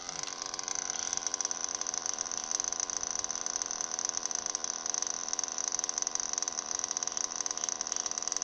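An O.S. Speed B21AD nitro engine idles in an RC truggy, giving a steady, close, high-pitched buzzing drone with a fine rapid rattle that runs unbroken throughout, with no talking.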